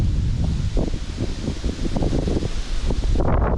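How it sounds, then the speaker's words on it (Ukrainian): Strong wind buffets the microphone in loud, rumbling gusts on a riverbank, with leaves rustling throughout. "ось тут бачиш вітер прям"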